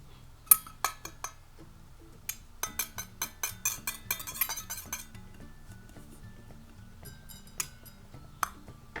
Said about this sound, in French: On va y casser un œuf. Et on va bien le fouetter.